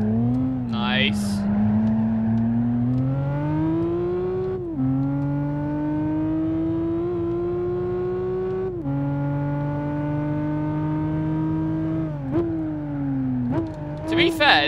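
Race car engine in Gran Turismo 5 revving loudly and steadily throughout, rising in pitch through each gear with brief drops at shifts, close and dominant.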